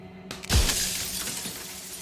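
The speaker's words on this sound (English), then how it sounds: "A crack slides down the center of the mirror, splitting the image in the glass in two." Mirror glass cracks and bursts into shards in the video game Slay the Princess, a single loud shattering impact followed by a trailing tinkle of falling fragments.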